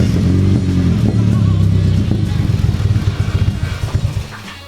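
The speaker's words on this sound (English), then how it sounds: "And that's what happens when your car runs out of gas" A Nissan 240SX engine with its fuel pump fuse pulled runs dry, idling roughly at close range, then sputtering into uneven, stumbling pulses as the rumble fades and the motor dies.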